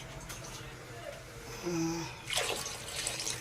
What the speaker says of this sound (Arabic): بزود ميه سخنه